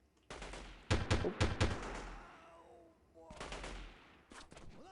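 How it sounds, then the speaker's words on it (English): Gunfire in the game Delta Force 2 comes as several clustered bursts of automatic shots, fairly close and sharp, separated by pauses, with a later burst trailing off, and no voice over them. "I hear more shooting somewhere"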